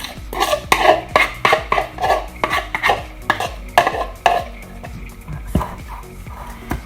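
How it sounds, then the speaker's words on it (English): A spoon scraping and slapping a cheesy egg mixture into a bowl of flour and butter, a steady run of wet knocks and scrapes with one quieter pause near the end. "we're going to put our cheesy egg mixture into our bread and butter, our flour and butter mixture. Scrape it all in."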